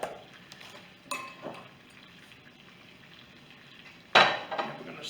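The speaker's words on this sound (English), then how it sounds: "And we're going to stir that around in the butter." A utensil scrapes and clinks against a pan while brown sugar is stirred into melted butter. Soft stirring is broken by a few sharp metallic knocks, one louder near the end.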